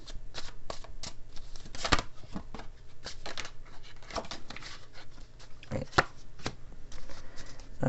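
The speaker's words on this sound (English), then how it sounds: "let me pull one card here out of a different deck, my Chinese deck, just to clarify the reading" A Chinese tarot card deck being shuffled close up, with a rapid series of crisp riffling and slapping card bursts that repeat throughout, along with a dog whimpering in the background.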